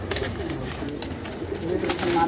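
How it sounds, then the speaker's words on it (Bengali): Restless domestic pigeons of an old heritage breed coo softly and steadily in a loft, a low continuous murmur of several birds close by. "ছটফটে কবুতরগুলা।"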